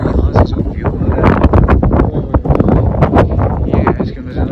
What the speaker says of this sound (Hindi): लेकिन हवा चल रही है तेज।